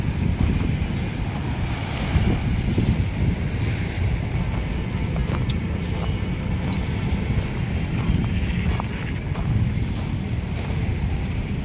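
Sea waves washing toward the shore at Dolomite Beach on Manila Bay after a typhoon, a steady wash of surf mixed with wind buffeting the microphone, continuous and fairly loud with no talk.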